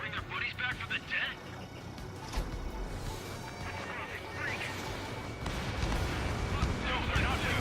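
Weapon fire in the Ace Combat 7 jet combat game, with dense rumbling bursts and crashes running continuously under game radio chatter and voices, growing louder toward the end.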